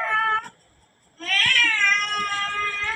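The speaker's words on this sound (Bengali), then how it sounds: "ওই নাকি বিড়াল কুকুর এলো কোন থেকে বুঝতেছি না" A cat meows loudly twice, close by, with a drawn-out wavering cry after a short pause.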